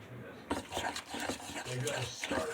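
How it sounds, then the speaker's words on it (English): A utensil stirs and scrapes through deviled egg filling in a bowl, with close, soft repeated rubbing strokes and light clinks, while a voice talks quietly in the background. "mixing up the innards for the deviled eggs"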